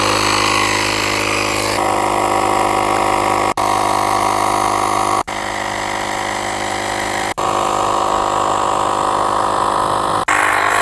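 A battery-powered portable tire inflator pumps air with a loud, steady mechanical drone close by. It runs almost without a break, cut only by a few very brief dropouts.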